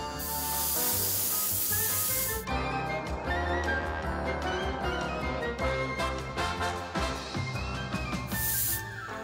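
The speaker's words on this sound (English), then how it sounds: "we're just gonna go and spray red enamel right on top of the" Red enamel paint is sprayed over Tamiya primer in two sharp, bright hissing bursts, one long at the start and a short one at the end. Quieter tonal, music-like sounds fill the gap between them.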